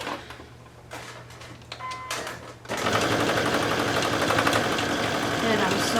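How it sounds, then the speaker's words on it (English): A sewing machine stitches a seam with a half-inch allowance on fabric for a gift card holder, quiet short runs and pauses giving way to a loud, continuous fast whirring stitch near the mic. "I'm sewing and back stitching at the beginning and the end."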